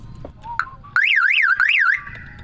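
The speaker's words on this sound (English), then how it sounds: "I don't even know how the alarm works" A truck's electronic alarm horn wails loudly with a rising-and-falling warble, cutting in abruptly after a brief chirp and blaring for about a second.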